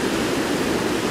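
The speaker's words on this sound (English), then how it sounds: "This is the River Neb." The River Neb flowing at Glen Helen on the Isle of Man gives a steady, broadband rushing wash of water. It sounds fairly loud and constant, with no voices over it.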